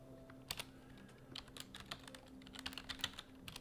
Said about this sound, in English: I'm just typing in the word Brewbaker